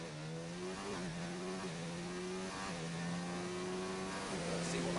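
A race car engine drones steadily on its out lap, a continuous mid-pitched hum that rises and dips slightly as it moves through corners, heard from a moderate distance.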